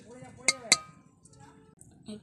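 A utensil stirs spices and turmeric in an oiled pan, giving two sharp metallic clinks close together, then faint scraping and a soft knock.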